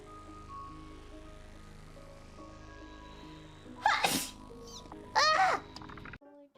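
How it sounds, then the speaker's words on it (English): A person sneezes twice, loud and close, with a sharp burst then a second sneeze about a second later, over a quiet room hum with a faint steady tone before both. "I must sneeze."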